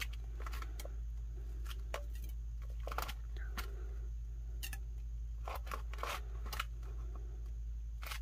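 Scissors snip the small end off a strip of vinyl on a split tumbler: a quick run of sharp, close clicks and snips over a steady low hum, with no talking.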